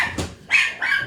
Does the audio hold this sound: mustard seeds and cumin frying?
no